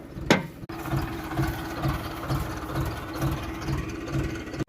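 A tractor stuck in a wet field idles with a steady, low chugging rumble and a regular pulsing beat, preceded by a brief sharp knock near the start.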